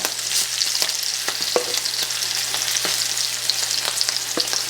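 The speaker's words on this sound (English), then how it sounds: "you can see it's sizzling. It's going to brown these babies." Food sizzles and browns in a frying pan, a steady crackling hiss with sharp pops and spatters close by.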